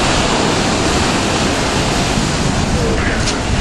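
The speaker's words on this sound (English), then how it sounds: "the calm, relaxing waves of the water" Ocean waves washing onto a black sand beach at Wai'anapanapa State Park, a steady loud roar of surf with wind noise on the microphone, continuous throughout.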